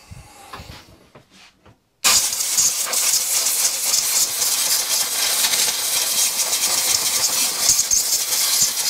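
Compressed air blasts debris off a dump-find Mountfield 474 lawnmower during repair, a loud continuous hissing rush starting after a brief quiet and holding steady to the end.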